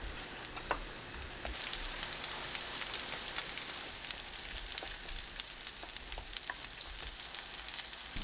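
A squid and sweet potato pancake fries gently in a pan on low heat, with a soft, even sizzle and scattered light pops and crackles running steadily throughout.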